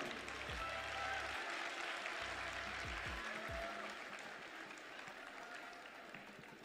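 Applause from the crowd at the Miss Togo 2024 pageant greets the national committee president, a broad wash of clapping that slowly fades, with low thumping booms early on.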